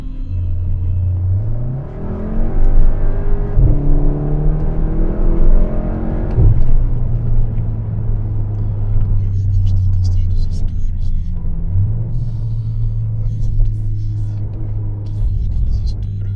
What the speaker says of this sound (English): I much prefer these burbles to the single, really loud pop some cars make.